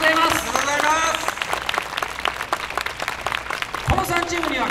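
A crowd applauds three prize-winning teams at the Wakasa Obama YOSAKOI festival 2019 awards ceremony, with loud, steady clapping while an announcer speaks over it through a PA.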